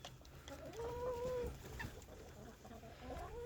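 Barred Rock hens on a farm give soft clucks and a drawn-out tonal call close by, over steady background noise of the coop.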